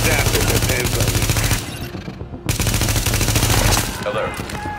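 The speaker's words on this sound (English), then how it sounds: "Reporting gunfire in the station above us." Loud automatic gunfire in the video game Tom Clancy's The Division: dense, rapid bursts that drop out briefly midway, then resume before tapering.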